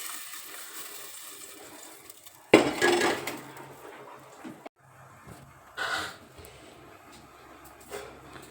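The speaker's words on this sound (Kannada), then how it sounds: "ನಾನು ಈಗ ಕುದಿಸಿಟ್ಟಿರ್ತಕ್ಕಂಥ ಬೇಳೆನ ಸುರುತ್ತಾ ಇದ್ದೀನಿ ಫ್ರೆಂಡ್ಸ್" Boiled lentils (dal) are poured into a pan with browned garlic, giving two wet splashing pours separated by quieter clinks, fairly close.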